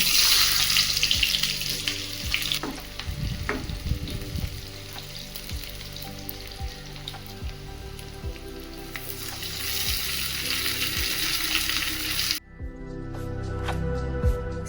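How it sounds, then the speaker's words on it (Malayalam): Mustard seeds temper in hot oil for beetroot kichadi, an Onam sadhya dish, giving a continuous sizzle with scattered crackles over background music, then a sudden cut to a quieter crackling section. "ഇനി ഇതിലേക്ക് കടുക് താളിച്ച് കൊടുക്കാം"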